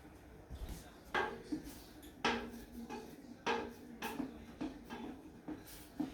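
Clam chowder being stirred in a pot for New England chowder: a spoon scrapes and clinks against the pot in an uneven rhythm, fairly quiet and close.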